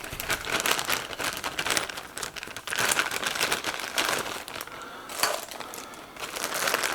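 Continuous crinkling of a plastic bag holding a magazine and Allen keys while an Artemis M16A airgun is unpacked, busy close rustling with louder bursts throughout.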